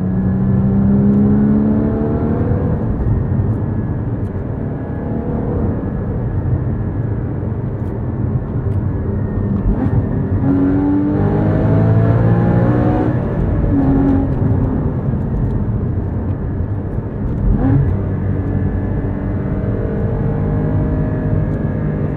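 A 2016 Porsche Cayman GT4 engine roars steadily as it accelerates, with the exhaust note rising and falling through gear changes, loud and continuous.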